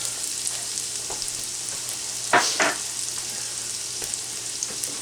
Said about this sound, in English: I got a little bit of a shallot and a whole clove of garlic in there sliced. And I'm gonna let that go for a couple seconds first.